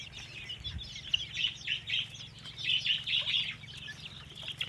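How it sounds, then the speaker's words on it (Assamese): Local chicken chicks mixed with turkey chicks cheep and cluck in a busy, continuous chorus of short high calls at moderate distance, with no talking. "লোকেল মুৰ্গীৰ পোৱালি আৰু টাৰ্কিৰ পোৱালি এয়া দেখাই পাই আছে"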